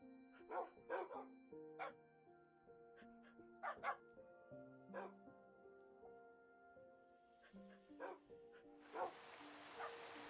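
Several Minecraft dogs bark and yip in scattered bursts over a backdrop of soft, tonal game music, with a brief hiss of rain near the end.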